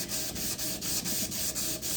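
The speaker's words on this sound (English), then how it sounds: "If you're trying to get a polish, you want to sand down the metal." A metal axe head being sanded down by hand for polishing, with a steady back-and-forth rasping rub repeating in a regular rhythm about four strokes per second, close and continuous.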